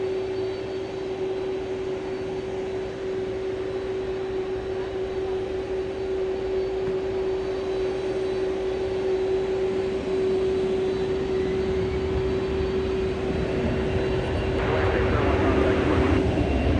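An American Airlines jet at DFW Airport at night rolls onto the runway, giving a steady, moderately distant engine drone with a constant whine that swells slightly toward the end.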